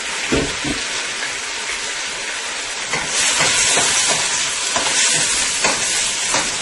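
Pre-washed split peas are tossed and stirred in a cooking pot, giving a loud steady hiss with repeated scraping and rattling strokes that grow busier partway through, with no talking.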